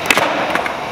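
A nollie late front foot flip on a skateboard: a sharp board pop and clack near the start, then a second clatter of wheels and deck landing about half a second later, close and fairly loud.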